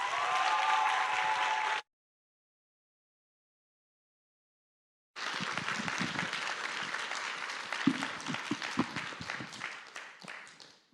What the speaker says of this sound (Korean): 지금까지 들었던 박수와 함성과는 전혀 비교되지 않을 만큼 큰 소리로 우리 목사님 함께 맞이해 주시기 바랍니다